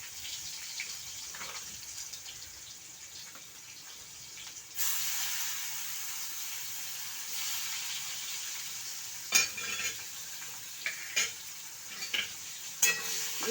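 Whole cumin, black cumin and dried chillies sizzle steadily in hot oil with a constant hissing wash. A few sharp spoon clinks near the end stand out against it, and no one speaks.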